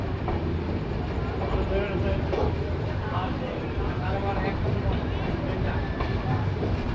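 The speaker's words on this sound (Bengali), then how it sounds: "ব্যান্ডেল থেকেও ট্রেন ছেড়ে দিয়েছে" The Kolkata-Radhikapur Express rolls out of Bandel station, a steady, loud rumble of carriages and wheels on track under a constant hum, with faint voices in the background.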